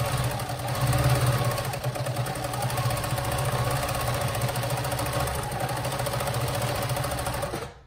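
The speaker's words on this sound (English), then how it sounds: "So I'm going to put it under the presser foot and we're going to do our zigzag." A sewing machine stitches a zigzag seam on fabric, a steady mechanical hum with a rapid rhythmic chatter running continuously for about eight seconds at moderate volume, close by.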